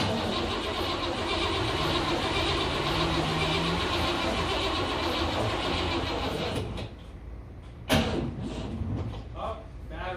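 A 1959 Cadillac V8 starting after an oil pan gasket replacement, cranking into a loud, rough running engine near the microphone, then dropping off with a few sharp knocks, with voices talking over it.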